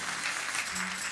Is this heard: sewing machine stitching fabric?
no